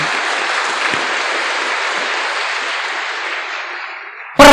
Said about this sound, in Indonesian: tepuk tangan dulu boleh